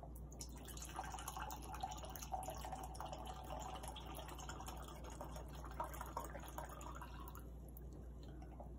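Wine pours through an aerator, a steady trickling, bubbling flow for several seconds, a continuous gurgling pour close to the listener with faint airy hiss.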